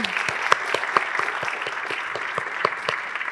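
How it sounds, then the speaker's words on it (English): Steady applause from a crowd at a school district student art showcase, dense overlapping claps with a few sharper individual claps standing out, continuous throughout. "Let's give one more round of applause to our student artists."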